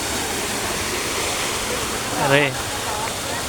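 Waterfall at a cold spring with clear water after dry weather, a loud steady rushing roar filling the whole stretch, with a short spoken word near the end.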